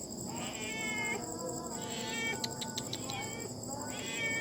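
A cat meows several times, with a few plaintive calls spaced apart over quiet background noise, fairly close by.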